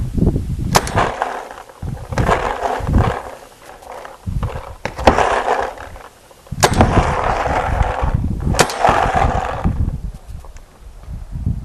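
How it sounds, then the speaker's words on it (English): An Azodin Kaos paintball marker is fired outdoors in quick snap shots, several loud, sharp pops at irregular intervals over a rumbling, noisy background. "We're going to do a little bit of snap shooting with it"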